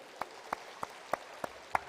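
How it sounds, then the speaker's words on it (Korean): A church congregation applauds their pastor during a Wednesday morning worship service with sparse, evenly spaced claps, about six distinct hand claps heard faintly against a quiet room. "우리 목사님 박수 한번 주실까요?"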